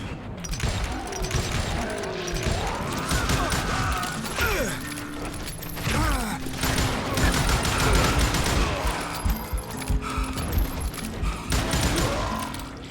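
Gunfire in the Western shooter Call of Juarez: Gunslinger, with repeated bursts of shots and mechanical clatter running through the whole stretch, mixed with game effects and the occasional voice.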